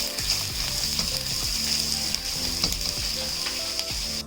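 Whole chicken pieces fry with garlic and ginger in a pan, giving a steady, loud, close sizzle with scattered clicks and scrapes from stirring throughout.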